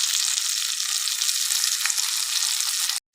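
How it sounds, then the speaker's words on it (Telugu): Onions and dried shrimp fry in hot oil with a close, dense, steady sizzle that runs without talk and then cuts off abruptly. "ఇప్పుడు ఆనియన్స్ ఫ్రై అవుతున్నాయి కదా, మనం ఇదే స్టేజ్లో ఎండు రొయ్యలు కూడా వేసుకోవాలి"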